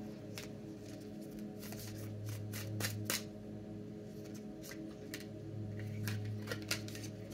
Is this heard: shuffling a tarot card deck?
yes